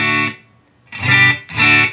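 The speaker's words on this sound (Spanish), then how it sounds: "Es totalmente limpio, sin reverb, sin ningún efecto. Es simplemente la guitarra conectada al amplificador." Clean electric guitar run straight into an amplifier with no reverb or effects, three bright strummed chords played in a short rhythmic pattern, each decaying quickly, close and loud with no voices.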